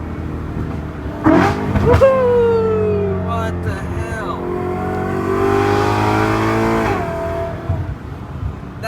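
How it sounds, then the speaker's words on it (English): BMW E92 M3 with a custom double X-pipe exhaust revs loudly and close by through several downshifts, each blip rising and falling sharply, while people inside cheer and talk. "Oh, the downshift sounds like a supercar."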